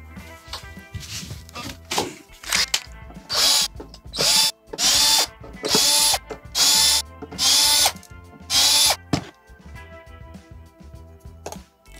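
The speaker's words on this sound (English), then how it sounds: "we are gonna need to loosen our trem claw screws a little bit" A power driver whirs in repeated loud bursts as it backs out the tremolo claw screws on a Jackson Virtuoso electric guitar, with about six close spins separated by short ratcheting clicks and pauses.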